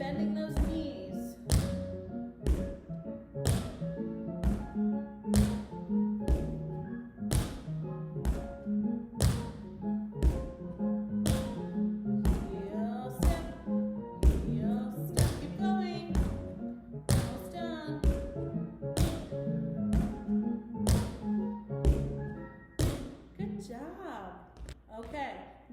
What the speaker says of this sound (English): Heel step. Starting with our right foot.